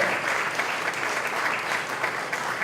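An audience at a Pride awards event claps in a sustained, dense round of applause, loud and even throughout with no voices over it.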